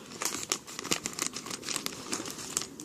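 Plastic wrapping on Sorry board game cards crinkles and tears as it is cut open close by, a dense run of crackling rustles with sharp bursts, no talking.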